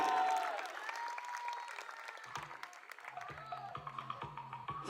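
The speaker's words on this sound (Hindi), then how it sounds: "जोरदार तालियां आप सबकी तरफ से बज जाए इस प्यारे से कपल के लिए" Crowd at a sangeet evening in Bikaner, Rajasthan applauding a couple after their performance, clapping at moderate distance with music playing, and rhythmic percussive beats rising in the latter half.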